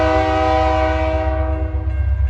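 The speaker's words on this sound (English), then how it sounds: "it was a Herzog train." A Herzog work train led by a C30-8 standard-cab locomotive sounds its horn, one loud, sustained multi-tone blast held close by, with the rumble of the passing train beneath it.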